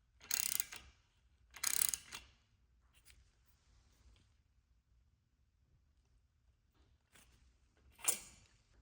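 A ratchet wrench tightening a temperature sending unit on a 1963 Corvair engine, with a few short bursts of close, crisp ratcheting clicks separated by quiet gaps.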